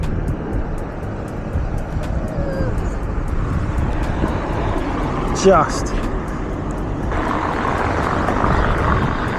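A fixed-wing airplane drones overhead on a city street, a steady low engine rumble mixed with traffic and outdoor noise, while someone talks nearby.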